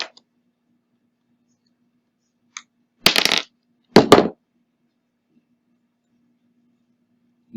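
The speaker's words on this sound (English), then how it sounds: "and strip the red and black cables. The others we cut them." Snips of scissors or cutters through red and black cables pulled from a recycled table fan, heard as two or three short, sharp crunching clicks close by in an otherwise quiet room.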